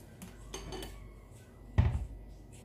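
Potatoes going onto a Tefal OptiGrill+ GC7148 electric grill give a few light clinks and scrapes of kitchenware, ending in a louder close clatter, with no speech.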